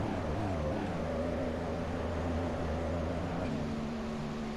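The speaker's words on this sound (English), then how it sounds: "He's making a very slow entry into the pits. Is he stuck in gear? Yeah, he's stuck in first gear." A Marussia Formula 1 car in the F1 2014 game, stuck in first gear and crawling down the pit lane, gives a steady low engine drone with a strong harmonic hum, held at an even pitch throughout.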